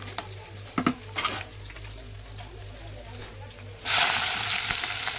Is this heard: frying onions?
yes